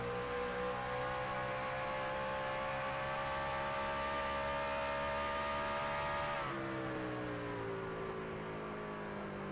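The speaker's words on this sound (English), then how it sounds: "I know we got one truck out on the track here" A race truck drives a lap of Gateway racetrack with a continuous, steady engine drone heard from on board, its pitch holding level before dropping with a shift partway through. No one talks.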